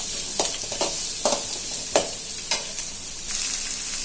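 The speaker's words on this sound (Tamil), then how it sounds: "போட்டு நல்லா சின்ன வெங்காயம் வதங்குற அளவு வதக்கணும்." Small onions sautéing in a pan for a fish curry make a constant loud sizzle, broken by sharp, regular clacks of a spoon stirring against the pan.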